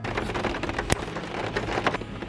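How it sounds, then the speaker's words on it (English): Rain falling steadily in Southern California, a soft continuous hiss with scattered louder drops and one sharp tap, fairly close and alone. "It's not so sunny in California right now though, it's raining, as you can see."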